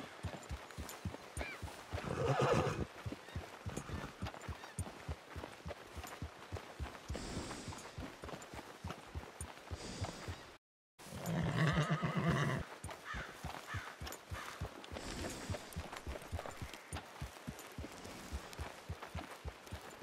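A horse in the video game Red Dead Redemption 2 gives two loud whinnies amid a steady run of clip-clopping hooves, with a brief silent break midway.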